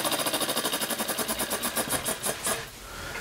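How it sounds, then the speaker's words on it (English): A small scratch-built, horizontally mounted piston valve model steam engine runs close by, its rapid, even chuffing beats speeding up over a few seconds before the rhythm breaks off into a softer hiss. "A little horizontally mounted piston valve engine."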